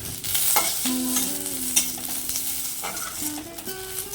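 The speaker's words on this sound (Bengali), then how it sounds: "রসুন লঙ্কা ভাজা হয়ে গেছে, এগুলোকেও তুলে নেব।" Garlic and green chillies fry in oil in a pan, giving a steady close sizzle with occasional stirring scrapes, under soft background music throughout.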